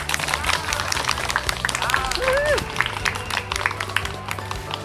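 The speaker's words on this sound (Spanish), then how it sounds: "Un aplauso, por favor, para Audrey Beauchamp." An audience at a sixth-grade graduation ceremony claps steadily at moderate volume, scattered sharp claps over a low hum, with voices mixed in.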